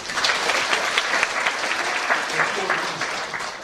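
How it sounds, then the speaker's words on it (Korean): Enthusiastic applause from a church congregation during a Sunday worship service, dense and steady clapping that continues throughout. "박수 한번 하겠습니다."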